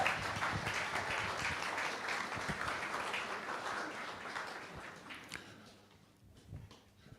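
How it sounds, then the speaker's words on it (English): An audience at an evening event on Black activism in the UK gives a big round of applause, dense sustained clapping that fades out over the last couple of seconds into quieter room noise. "Give him a big round of applause"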